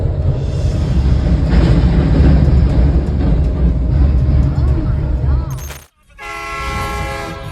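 Approaching train sounding its horn at a railway crossing, a loud sustained rumble and blaring horn that cuts off abruptly, followed by a quieter tonal whistle-like sound.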